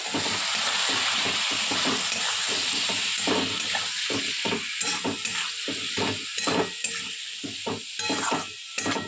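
Vegetables frying with turmeric, chilli, cumin and coriander powder and a little water while being stirred, a loud close sizzle broken by repeated rhythmic spatula scrapes and hissing steam.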